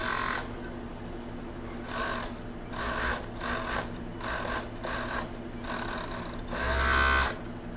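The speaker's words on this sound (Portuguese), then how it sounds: "vamos overlocar, fazendo par, pra ele ficar certinho" An overlock serger runs in several short bursts while stitching a maternity bra for nursing, its motor whirring steadily through each pass with brief pauses between, loud and close with a final longer burst.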